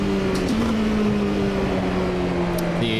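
Nissan R390 GT1 race car engine on a straight in Automobilista 2, a steady sustained drone at constant pitch that holds throughout, loud and continuous with a brief shift near the end.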